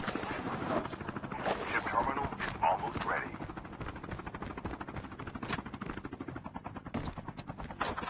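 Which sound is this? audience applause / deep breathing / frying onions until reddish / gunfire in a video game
gunfire in a video game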